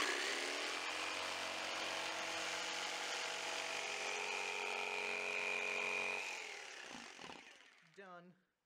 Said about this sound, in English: And then you use the jigsaw to cut it out.